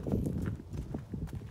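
A horse's hooves clip-clop nearby at a farm in Åsgreina, a loose run of soft, uneven thuds.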